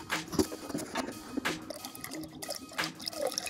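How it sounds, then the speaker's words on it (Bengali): Water being stirred and sloshed in a bucket to mix homemade plant food, with irregular splashes and drips at close range, no talk. "তো প্রথমে আমি এইখান থেকে জলটা মিশিয়ে নিই।"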